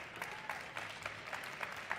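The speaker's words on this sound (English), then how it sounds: "Please give another round of applause for Dr." Audience applause fills the room at a live talk event, a steady wash of clapping with no voices over it.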